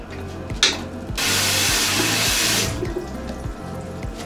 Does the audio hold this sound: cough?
no